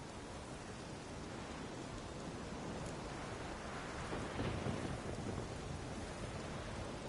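A thunderstorm in The Witcher 3: Wild Hunt gives a dense, steady wash of rain noise with a faint low rumble swelling briefly midway. The sound is even and enveloping, with no talking.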